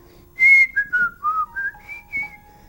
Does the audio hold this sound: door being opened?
no